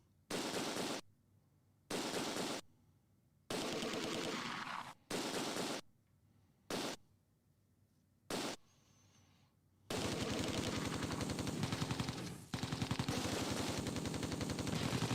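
Bursts of machine-gun and rifle fire rattle in the Close Combat 2 war game, starting as loud separated volleys with short pauses, then merging into a continuous heavy barrage.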